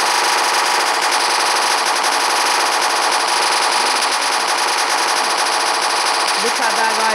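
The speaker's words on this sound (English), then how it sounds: "Okay, so now we've got a minigun." A minigun in a Minecraft PE guns mod firing nonstop, a dense loud buzzing rattle of rapid shots filling the whole stretch, with faint game noises underneath.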